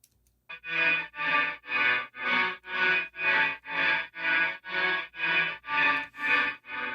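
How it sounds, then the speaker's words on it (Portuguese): Soloed plate reverb from a Denise Audio Perfect Plate XL plugin, a steady series of about a dozen evenly spaced, rich washy pulses, each swelling and fading in a regular rhythm with no talk. "Eu vou dar um solo só no reverb pra gente ouvir só a reverberação."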